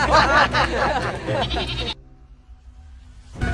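Goats bleat loudly and repeatedly in a burst of overlapping calls, then cut off abruptly, leaving a quiet low hum before another sound starts.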